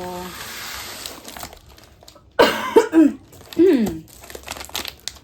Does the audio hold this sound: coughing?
yes